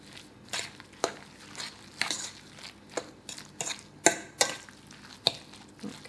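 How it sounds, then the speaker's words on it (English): Meatball mixture of ground meat, soaked old bread and breadcrumbs being mixed for German Königsberger Klopse, giving soft irregular squelching and clicking strokes, close by, with no talking. "And now I mix this all together."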